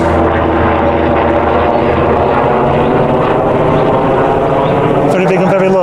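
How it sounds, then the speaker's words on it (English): Loud, steady rotor and engine roar of a helicopter close overhead, constant throughout with a deep throbbing drone. "now that there's an helicopter right above us"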